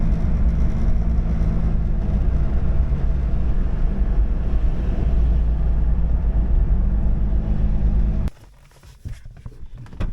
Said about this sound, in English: Test drive number 5 or 6 or something.